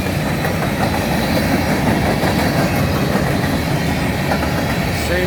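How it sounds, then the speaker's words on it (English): A short CN local manifest freight train led by an SD75I locomotive and hauling hoppers rolls past up close, its wheels rumbling loud and constant with rhythmic clickety-clack over the rail joints. "This is the local train right here."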